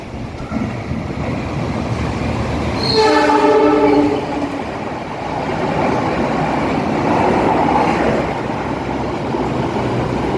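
The Joglo Semarkerto passenger train rushes past near Purwosari station in Central Java, sounding one loud, brief horn blast over the heavy, continuous roar of its carriages.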